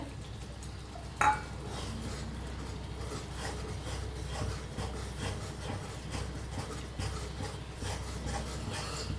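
Masala and tomatoes roasting in a pan on the stove: a steady, busy sizzle with repeated scraping and clinking of a spoon as the mixture is stirred, and one sharper knock of utensil against the pan.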